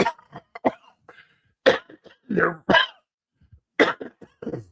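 Several bursts of coughing and throat clearing, close by, spread across a few seconds with short quiet gaps between fits.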